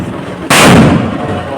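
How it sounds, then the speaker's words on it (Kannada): A firecracker bursts during a Diwali procession, one sudden very loud bang with a long rumbling decay, close by over crowd noise. "ಮಧ್ಯದಲ್ಲಿ ಪಟಾಕಿ ಹೊಡಿತವ್ರೆ, ಎವ್ರಿ ಸೈಜ್ ಪಟಾಕಿ ಹೊಡಿತವ್ರೆ"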